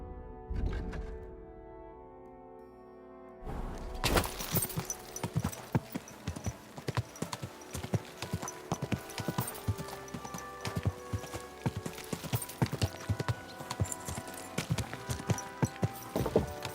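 Horse hooves clip-clop steadily in Kingdom Come: Deliverance II. A brief musical passage comes first, then a quick, even run of hoofbeats continues throughout at a moderate, close level.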